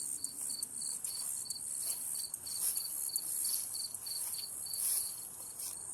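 Steady, rapid insect chirping pulses at an abandoned dairy farm, continuous and fairly close over a faint hiss of outdoor background, with no talk.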